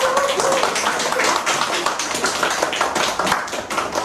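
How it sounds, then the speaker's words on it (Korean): An audience at a school admissions information session claps to welcome a student speaker, a sustained, dense patter of many hands at an even level. "큰 박수로"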